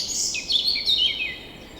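Birds chirping and tweeting in a magical forest setting, a bright cluster of overlapping high calls that stays loud and steady over a constant background wash, with no talking.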